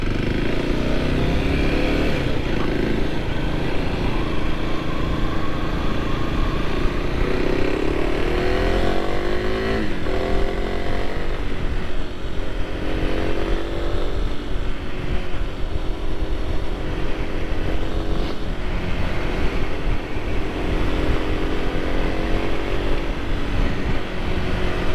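Kawasaki KLX 300 supermoto idling and revving, a loud close single-cylinder engine drone that rises and falls through repeated throttle blips over a long steady run, no talk.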